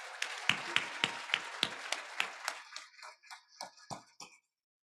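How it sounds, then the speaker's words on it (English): Applause for Congressman Richard Neal at a Bay Path University campus event: a burst of distinct hand claps that thins into scattered, tapering claps before fading out. "Can you all join me in giving Chairman Neal a round of applause?"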